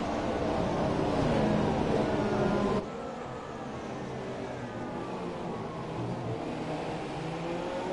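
Race cars from a racing video game roll through the formation lap at Monza, engines droning steadily and loudly throughout, with a slight drop in level partway through.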